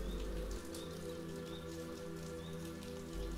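Soft rain falls in an even, hissing patter, quiet and continuous with no voices, and a faint bird call may be heard now and then.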